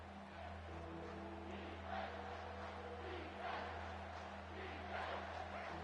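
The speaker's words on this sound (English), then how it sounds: "This crowd rising up, sensing that its defense needs some help." A football stadium crowd cheers and roars in a sustained wash of noise at a distance, swelling in waves, with a steady low hum underneath.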